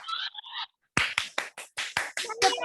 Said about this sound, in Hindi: सभी बच्चे इन दोनों बच्चियों के लिए जोरदार तालियां बजाइए